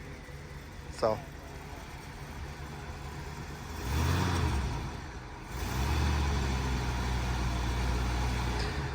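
A carbureted 1978 Lincoln Continental engine idles after 38 years off the road: a low, steady rumble swells around the middle and settles into a continuous drone, with a brief voice near the start.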